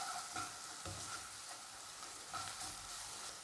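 Onions fry with garlic ginger paste in a pan for liver masala, giving a steady, close sizzle with scraping stir strokes every second or so; no one speaks.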